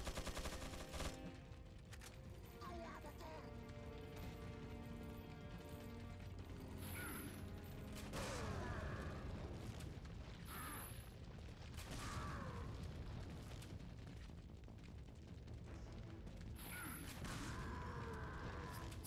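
Bow gun shots ring out in a hunting video game, a dense run of sharp reports and booms layered over steady game music and effects across the whole stretch, with no talking.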